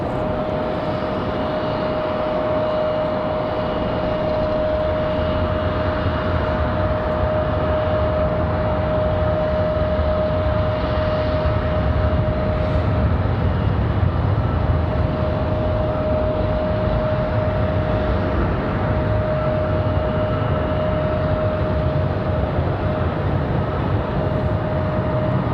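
An Alaska Airlines jet takes off from Raleigh-Durham International, giving a sustained, loud engine roar with a steady whining tone running through it for the whole stretch.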